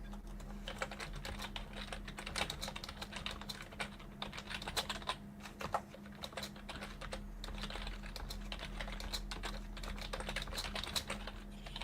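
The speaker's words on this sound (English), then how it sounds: "apologies for the keyboard sound, everybody" A computer keyboard clatters steadily under a Discord microphone turned up high, rapid irregular keystrokes continuing over a low constant hum with no talking.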